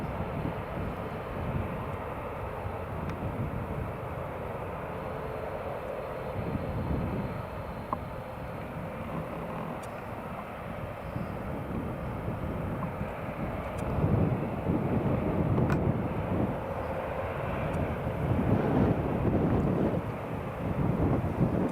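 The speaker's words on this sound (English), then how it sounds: "Flying a 737 MAX, flight FR4080 to Alicante" A Boeing 737 MAX jet at Newcastle airport produces a steady, heavy engine roar lasting the whole stretch, swelling slightly louder toward the end, mixed with gusty wind buffeting the microphone.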